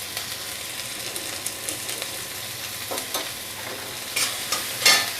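Colocasia with turmeric gets stirred in a frying pan, a continuous close sizzle broken by a few scraping clatters of the spoon that grow louder toward the end.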